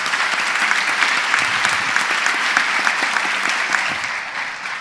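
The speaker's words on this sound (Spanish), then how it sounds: "Un aplauso para ellos," Audience applause for a group of young people at a gathering, a steady, dense clapping from a crowd that holds for several seconds and fades slightly at the close.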